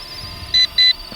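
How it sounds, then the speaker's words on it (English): Two short, high electronic beeps in quick succession from an RC Era C123 helicopter transmitter, fairly loud over faint background noise. "I couldn't tell you why the transmitter's beeping."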